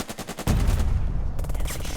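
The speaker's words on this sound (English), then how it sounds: "I'm going to shoot at this leader again." Bursts of gunfire in the Burden of Command war game, aimed at an enemy leader: a short burst, then a heavy sustained volley of rapid shots that fills the rest of the moment at close, loud range.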